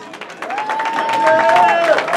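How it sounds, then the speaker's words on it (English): Brief audience applause and light cheering rise under a voice, with a whistle-like tone gliding through as the clapping builds. "Applause from everybody, please."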